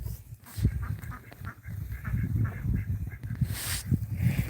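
A pet goose honks a few times at night around a horse barn, low nasal calls mixed with rustling and steady background noise, moderately close but fairly faint.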